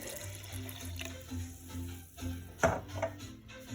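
Warm broth for Polish sour rye soup pouring into a jar, a soft liquid trickle with a brief splashy burst near the end, close and quiet over a faint low hum.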